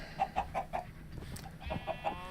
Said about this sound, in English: I have no idea how the chickens get out of here.